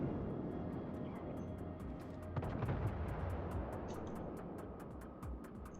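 Naval gunfire at an enemy ship in a video game featuring the Gneisenau: a single muffled, distant-sounding boom rises midway over a low, steady engine-like rumble, with faint regular ticking in the background.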